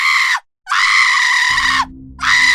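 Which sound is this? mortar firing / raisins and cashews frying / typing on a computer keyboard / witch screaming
witch screaming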